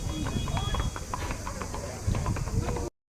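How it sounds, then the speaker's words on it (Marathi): Several horses clip-clop on a hard surface nearby, a quick irregular run of hoof taps, with people talking over them before the sound cuts off. "हे सगळे घोडे"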